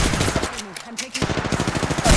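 Gunfire aimed at the player in the battle royale shooter Apex Legends, played as Wraith: bursts of rapid shots crackle on both sides of a short lull, loud and close, with game tones mixed in.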